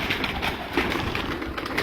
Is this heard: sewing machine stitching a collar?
no